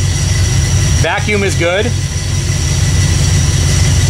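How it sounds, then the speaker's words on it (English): A 1979 AMC AMX engine idles low and steady at about 700 RPM, a constant deep rumble throughout while someone briefly speaks over it. "Idle's at 700 RPMs. So my idle's a little low, which we can hear."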